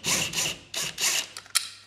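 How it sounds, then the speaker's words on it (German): A screw is turned out of a VW Crafter emblem, giving a series of close, dry rasping scrapes in short bursts, ending with a few small clicks. "Und jetzt schrauben wir es raus."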